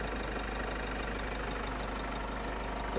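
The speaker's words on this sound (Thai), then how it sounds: "เครื่องยนต์เดินเรียบปกตินะครับ" A 2019 Isuzu D-Max pickup's 1.9-litre diesel engine idles steadily with a low, even rumble and faint knocking texture through its stock exhaust, close by and unchanging throughout.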